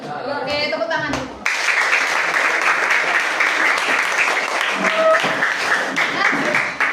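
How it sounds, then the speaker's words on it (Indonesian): A classroom of children claps their hands together after a finger game, a short noisy patch of voices giving way to loud, sustained, busy clapping that continues to the end. "Oke, tepuk tangan."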